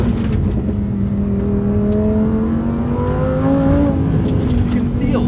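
Lamborghini Huracan STO supercar engine droning steadily close by with rising tones as it pulls, loud and continuous, with some talk faintly over it.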